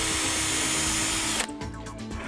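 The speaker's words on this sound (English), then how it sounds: "Drill your center." A power drill boring a center hole in ABS plastic with a 9/16 inch bit, a loud steady whine running for over a second before cutting off and winding down.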